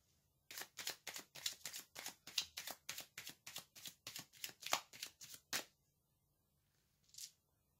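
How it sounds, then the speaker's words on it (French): Oracle cards being shuffled by hand, a rapid run of about twenty crisp riffling snaps for five seconds, then a pause and one last soft card flick, close and alone. "Maintenant, je vais tirer une carte d'oracle."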